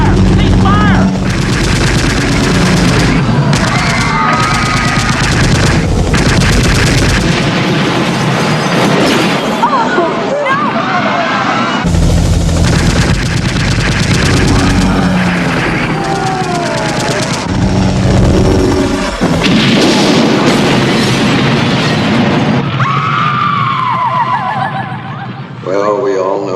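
Sustained machine gun fire and explosive bursts in a radio drama, loud and dense, layered with shouting voices and rumbling, chaotic battle effects that continue almost without pause before trailing off at the end.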